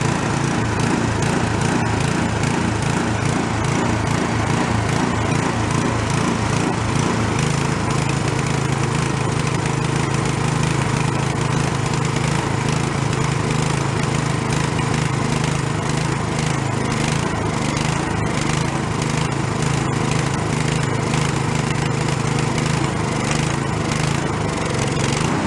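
A free, worn snow blower engine runs on the choke, loud and continuous with a rough, uneven, hunting idle throughout.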